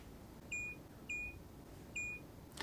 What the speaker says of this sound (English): When that happens, it creates an audible beep, which can be quite unnerving